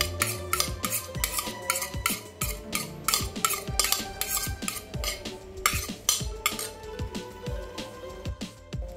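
A utensil stirs grated tomato with about half a tablespoon of coconut oil in a small bowl, making quick, steady clinking and scraping strokes in a regular rhythm throughout.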